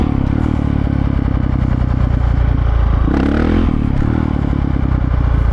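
Dirt bike engine held loud and close as the throttle is blipped on and off, the rev rising in a short surge around the middle before dropping back to a steady, rattling idle.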